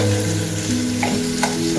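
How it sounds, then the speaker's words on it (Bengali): Eggplant slices for begun bhaja sizzle in hot oil with a loud, continuous hiss and crackle heard close by, plus a few brief stirring clinks, with a low steady hum underneath. "প্রথমে আমাদের শুরু হয়েছে বেগুন ভাজা, মানে বেগুনি ভাজা হবে সকালের টিফিনের জন্য।"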